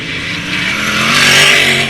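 305 sprint cars roar around Attica Raceway Park during a heat race, a loud, steady, close engine drone that swells slightly as the cars pass.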